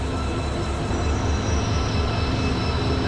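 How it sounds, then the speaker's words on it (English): A train rumbles steadily and close by at a Malaysian station, a dense continuous roar of wheels and machinery with no talk over it. "let's go and get on this train"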